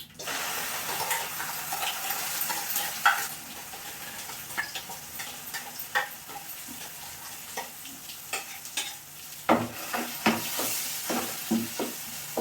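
Onion chilli paste frying in a pan after the tempering, a close steady sizzle broken by repeated scraping stirs and clicks of the spoon, with stronger stirring bursts toward the end.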